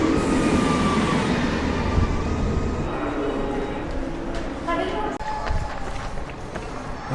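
A train rolls along with a loud, steady rumble and clatter of wheels on rail, the cabin noise filling the space while a voice talks over it.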